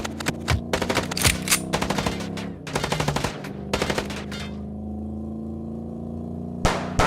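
Gunfire in the video game Chicken Police, loud rapid bursts of machine-gun shots in quick succession, then a low steady hum with one more sharp shot near the end.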